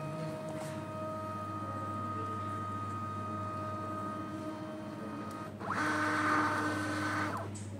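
A TVS LP 46 Lite label printer hums steadily while calibrating, then a louder mechanical whir rises for about two seconds as it feeds out blank stickers before settling back.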